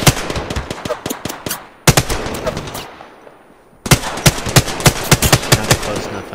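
Rapid gunfire from a Legends battle video game: sharp, loud bursts of automatic shots in two long volleys separated by a short quiet gap, each shot distinct and punchy.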